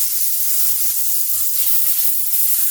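Butter sizzles in an electric skillet with a close, even hiss and fine crackle that holds steady and fairly loud.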